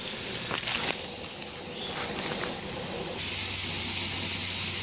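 Ribeye steaks sizzle on a grill with a soft steady hiss and occasional pops, growing louder and brighter toward the end.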